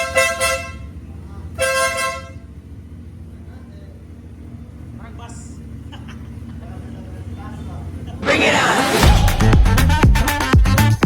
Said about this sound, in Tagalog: in-upgrade din natin yung horn natin which is itong Marco Tornado